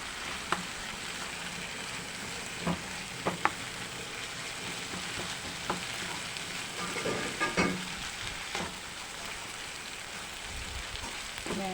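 A corned beef omelette fries in a pan with a steady close sizzle and crackle, broken by scattered sharp pops and spatters.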